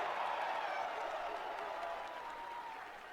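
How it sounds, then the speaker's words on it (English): Steady, dense applause from a large crowd at a US Navy midshipmen ship selection ceremony fills the room, clapping blending into a continuous wash that slowly fades slightly. "How about a round of applause?"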